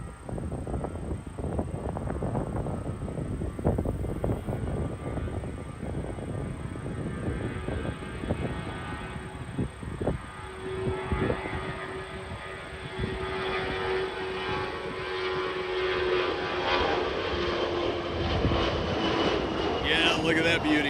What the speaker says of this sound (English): Let's see the A319 rocket departing